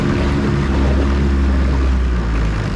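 Boat engine on a Bayrunner T-top idling down from max throttle, a steady loud low drone with a droning propeller-like hum throughout, close by and with no voices.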